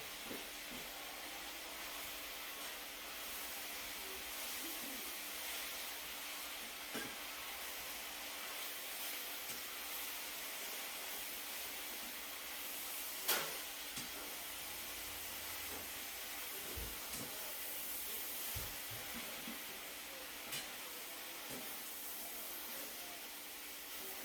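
Spinach steams as it cooks in a pot, giving a faint, steady hiss with a few soft clicks and taps scattered throughout.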